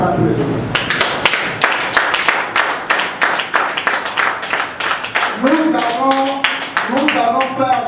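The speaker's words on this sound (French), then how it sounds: "vous demander de bien vouloir l'applaudir" Rhythmic, fairly close clapping from an audience at a colloquium, steady beats running throughout, with a voice singing or chanting over the second half.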